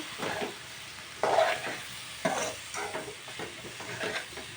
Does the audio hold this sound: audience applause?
no